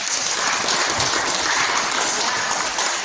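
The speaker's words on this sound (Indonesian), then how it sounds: "Tepuk tangan untuk kita semua." A crowd claps continuously for a few seconds, a dense steady patter of hands with no voices over it.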